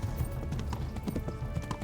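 Rapid hoof clip-clops of a galloping horse in the video game Kingdom Come: Deliverance, steady and close, set against a busy background rumble.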